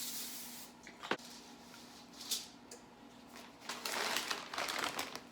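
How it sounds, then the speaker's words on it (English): Quiet, soft hissing bursts of an extra virgin olive oil spray can onto a pan, a short one early and a longer one near the end, with faint rustling. "I'm going to be spraying this down with the extra virgin olive oil spray."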